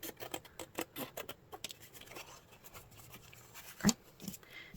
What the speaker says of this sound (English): I'm just going to cut along the edge of the score mark there